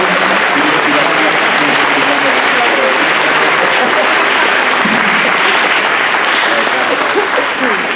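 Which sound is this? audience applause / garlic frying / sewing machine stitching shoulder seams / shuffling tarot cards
audience applause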